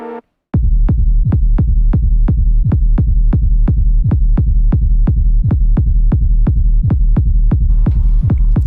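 A steady four-on-the-floor electronic beat with deep, punchy kicks about every third of a second over a low sustained pad, loud and continuous after a brief opening tone.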